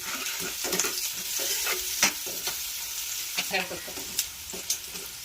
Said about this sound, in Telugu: చింతపండు వేసుకుని అలా కొంచెం లైట్గా వేయనియాలి, మరీ ఎక్కువ వేయనియద్దు